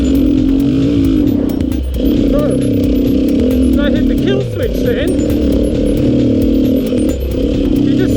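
A Beta RR480 enduro motorcycle engine revs steadily in third gear on an enduro loop, a loud, continuous close-up drone with brief dips and surges, overlaid by rider talk and wind.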